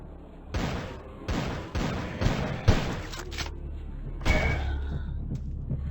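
Gunfire in the flash game Decision: a series of heavy, muffled shots in quick succession, moderately loud, with a final louder blast after a short gap.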